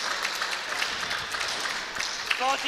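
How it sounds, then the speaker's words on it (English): A crowd at a pro-am pickleball quarterfinal claps steadily through the whole stretch, a broad, even wash of applause under a commentator's voice. "crowd is appreciative of that long rally"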